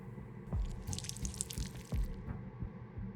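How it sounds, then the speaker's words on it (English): Water poured onto a clay mold in the game Whispers of a Machine: a close, steady trickle with scattered drips and a few soft thumps, no voices. "I'll go and add some water."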